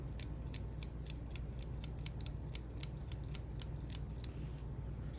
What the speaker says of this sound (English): I'll just scratch off some of that blackening.